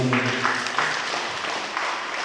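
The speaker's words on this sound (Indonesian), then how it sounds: "Tepuk tangan buat mereka berdua ini." Applause from an audience at a scholarship handover ceremony in Aceh Singkil, a short burst of clapping that starts right after a voice and stays moderately loud through the two seconds.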